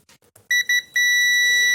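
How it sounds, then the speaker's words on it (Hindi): A multimeter beeps as its probes test a capacitor: a few quick, clear tones, then a longer sustained beep that holds to the end, loud and close, after some faint clicks. "ठीक है, बीप आ रही है लेकिन थोड़ी देर बाद चली गई।"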